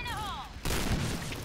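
A grenade goes off in a first-person shooter video game on the Grand Bazaar map, a sudden loud blast that cuts in after a brief whistling tone and decays into rumble.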